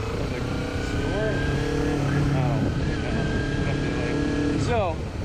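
A 2011 Kawasaki Ninja 250R motorcycle engine hums while being ridden slowly, a steady drone with several rising and falling revs, close and fairly loud throughout.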